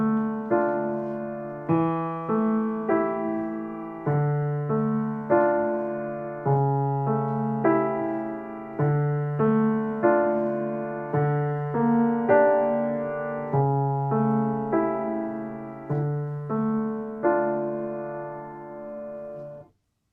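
A piano étude played with the sustain pedal, its notes sounding one after another in a steady, even rhythm, each tone ringing on and blending into the next before ending abruptly after about twenty seconds.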